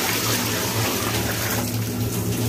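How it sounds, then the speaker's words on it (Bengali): Plain water gushes steadily into a large cooking pot being filled for a big batch of beef biryani, a continuous close, full pouring rush with no pauses. "আমাদের 10 কেজি চাউলের জন্য 15 কেজি পানি আমরা দিয়ে দিব"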